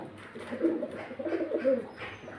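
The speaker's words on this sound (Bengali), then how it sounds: "এই যে পায়রাগুলো দেখুন সবগুলোই কিন্তু নর পায়রা" Male pigeons coo in low, throaty, rolling phrases, several overlapping calls close by against a quiet background.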